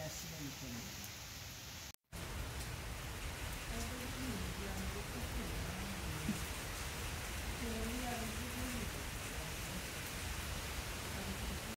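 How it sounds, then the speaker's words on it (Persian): Heavy rain pours during a storm in a steady, unbroken hiss, with a brief cut near the start and faint voices talking underneath. "چتر خاص نیما، طوفان بود بارون بود رفت بیرون"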